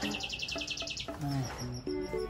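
Small birds chirping near a pigeon loft in the Philippines, quick bright tweets and short whistled notes in rapid succession, fairly faint and close, with no voices.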